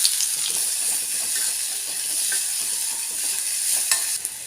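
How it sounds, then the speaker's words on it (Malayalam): Crushed shallots sizzle in hot oil with popped mustard seeds and curry leaves, a steady bright frying hiss with occasional soft stirring scrapes, close and without talk. "ഇത് നമ്മുടെ ചെറിയുള്ളി നന്നായിട്ടൊന്ന് വഴന്ന് വരണം"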